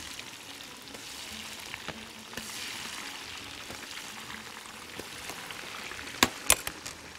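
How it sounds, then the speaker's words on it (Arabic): Eggplant frying in oil gives a steady, fairly quiet sizzle throughout, with a few louder crackles and pops near the end and no talk. "بقلي البتنجان بتاعي"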